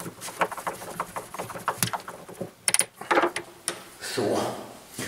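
Hand screwing with a manual screwdriver instead of a cordless one, while building a virtual pinball cabinet: a series of short, irregular ratcheting clicks and creaks close up, with brief pauses and a louder scraping stretch near the end.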